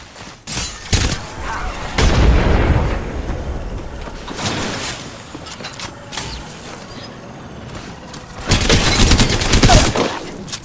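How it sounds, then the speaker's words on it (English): A frag grenade detonates in Apex Legends, landing as a loud booming blast around the two-second mark, with bursts of gunfire and further explosive crashes following through the firefight. "Tossing a frag."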